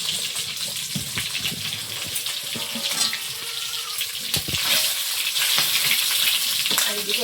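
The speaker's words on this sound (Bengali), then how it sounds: "আর এদিকে মাছ তো ভাজা হয়ে গেছে" Fish frying in oil in a home kitchen, giving a steady, fairly loud sizzling hiss that runs without a break for several seconds, with a few brief clatters and no speech.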